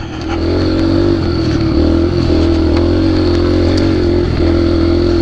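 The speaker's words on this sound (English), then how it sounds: "I come around these turns and I get on the gas and it basically just power slides with me." A Yamaha TW dirt bike roars loud and close as it accelerates hard and power slides around trail turns, the engine note steady and full throughout with some clatter.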